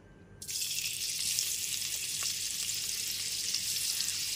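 Paneer pieces drop into a pan on a low gas flame and start frying, and a soft, even sizzle comes in suddenly and holds steady, close and moderately quiet.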